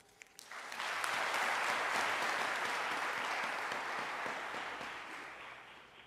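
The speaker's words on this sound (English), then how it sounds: "Another round of applause for Zioka Arain Mwindi." An audience applauding at a university student recognition ceremony in Nairobi, a dense, sustained wash of clapping that swells quickly and holds steady for several seconds, heard from within the hall.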